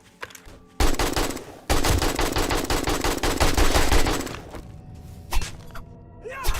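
Rapid automatic gunfire from a heavy-recoil gun in the video game 7 Days to Die rattles out in a loud, dense burst of shots, then trails off into quieter game sounds and faint voices.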